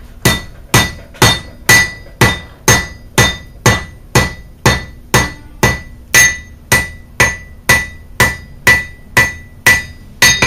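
A blacksmith strikes hot metal with a rounding hammer while forging a coat hook, drawing the stock into a spade shape. About twenty loud, evenly spaced ringing blows land in a steady rhythm with no talk.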